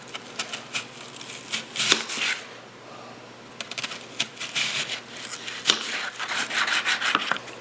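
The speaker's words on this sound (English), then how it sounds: "or however you wish to cut your onion" A knife cutting onion on a wooden cutting board for New Mexican green chili stew, giving close, irregular bursts of chopping and scraping with brief pauses, no talking.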